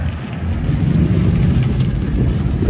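A 2017 RAM 1500 with a 5.7L HEMI V8 and straight-pipe true dual exhaust gives a steady, deep, loud rumble close by, with some wind buffeting the microphone.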